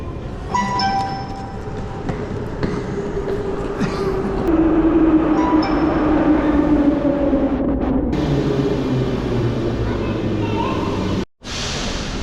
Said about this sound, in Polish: jesteśmy na metro, weźliśmy na metro